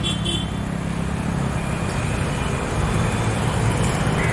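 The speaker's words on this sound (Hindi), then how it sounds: "इतना ट्रैफिक है मुंबई में हर जगह पे" Dense road traffic in Mumbai, a continuous loud rumble of cars, buses and trucks close by with a car horn tooting briefly at the start and no voices.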